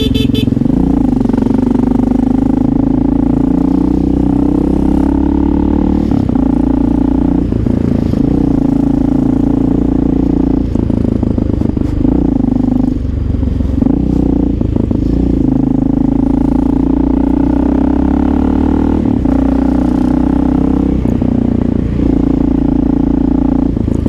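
A Honda XR650L motorcycle with an aftermarket exhaust rides through New York City traffic, its engine running loud and steady the whole time, with brief throttle swells and passing traffic noise around it.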